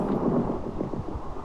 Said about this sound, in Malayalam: എന്താ പെരും ഇടി മഴയല്ലോ കേട്ടോ ഇതിൽ